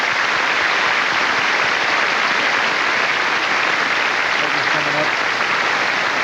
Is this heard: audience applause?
yes